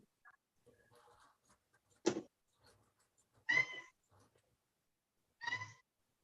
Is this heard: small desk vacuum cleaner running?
no